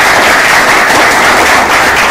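Loud, dense applause filling a live phone-repair training class after an OPPO FRP lock bypass, a continuous wash of clapping with no pauses and no talking over it.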